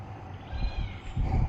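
A cat meows repeatedly in a domestic Thai setting, several moderately loud calls close to the listener over a steady low background hum.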